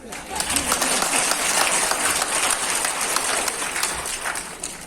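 Applause from an audience at a Hindi poetry recital, a continuous broad wash of clapping sustained at even loudness, with voices mixed in.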